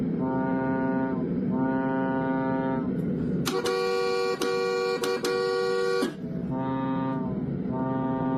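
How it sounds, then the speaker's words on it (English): Loud, deep horn blasts like a car horn, sounding in long sustained bursts with brief gaps and a higher, brighter honk in the middle. "So this must be where they got the car horn sound from."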